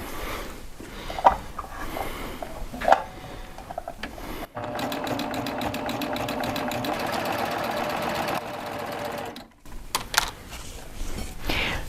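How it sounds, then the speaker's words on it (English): Serger sewing machine stitching along a fabric fold for about four seconds, a steady loud mechanical whirring buzz with rapid needle chatter, starting and stopping abruptly, preceded and followed by quieter handling sounds and faint clicks. "I'm going to be stitching so that I'm stitching right along that fold."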